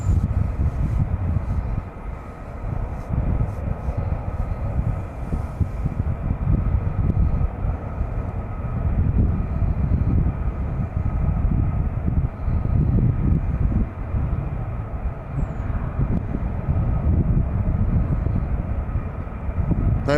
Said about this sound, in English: They were two F-15s.